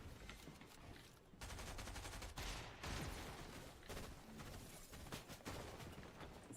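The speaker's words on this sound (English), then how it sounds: "That's Mythic Pistol, isn't it?" Rapid bursts of gunfire from a Mythic Pistol in a Fortnite match, a dense clatter of repeated shots with short gaps, fairly loud and with no talking.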